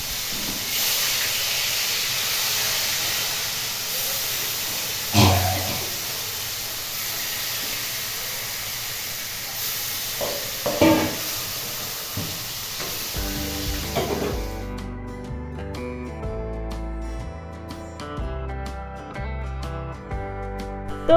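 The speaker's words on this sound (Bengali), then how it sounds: "তো চলো মাছটা ভেজে নিই" Rohu fish frying in hot oil, with the fish's own oil added to the pan, gives a steady hissing sizzle with a few sharper spits for about fourteen seconds before music takes over.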